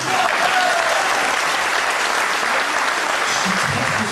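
A stage audience gives a performer a dense, sustained round of applause that fills the whole stretch at steady loudness.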